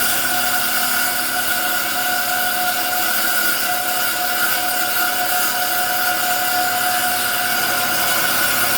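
Rock saw cutting through Vernon wonder stone, a loud, unbroken grinding whine with a steady high-pitched tone that holds evenly throughout.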